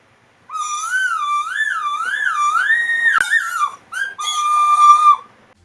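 A 1993 McDonald's Happy Meal sound machine toy emits a warbling, siren-like electronic whistle that rises and falls in pitch. A click breaks it, and a couple of shorter steady tones follow, all loud and close with no talk.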